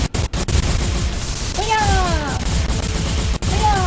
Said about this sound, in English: Stop shooting at it.